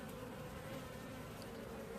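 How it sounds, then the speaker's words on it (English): Honey bees in an open hive attend to their queen, a steady, dense buzzing hum that stays even and close throughout the brief moment, without any voices. "a few bees trying to attend to the queen"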